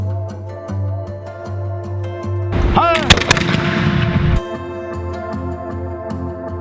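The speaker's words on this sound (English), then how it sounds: "so we're gonna go see the musket firing" A musket fires at a historic fort in Mackinaw City, a single loud blast with a ringing echo. A crowd murmurs and a voice speaks around the shot.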